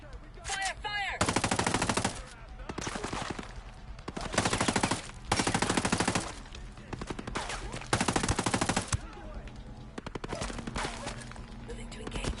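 Automatic gunfire in Ghost Recon Breakpoint, loud repeated bursts of rapid shots separated by short pauses, with fainter in-game voices heard between volleys.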